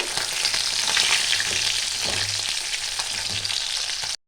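Katla fish sizzles and crackles steadily in hot oil, a dense continuous frying hiss with no talking.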